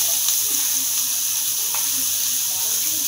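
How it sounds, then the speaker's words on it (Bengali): Onion and black cumin frying together in hot oil left over from frying hilsa fish, producing a continuous loud sizzle with a few faint clicks, and no voices. "ওই তেলের মধ্যে এখানে পেঁয়াজ আর কালো জিরে আমি দিয়ে দেবো একসাথে"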